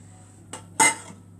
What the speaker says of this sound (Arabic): هنحط فيه معلقتين صلصه كبار اهو